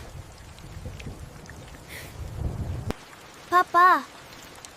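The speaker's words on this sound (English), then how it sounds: "when will the rain stop?" Heavy rain pours steadily in a cartoon storm scene, a dense wash of drops that cuts off abruptly, followed by brief voices talking in the quiet.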